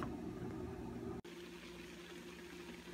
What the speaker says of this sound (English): We're going to let that simmer a little while.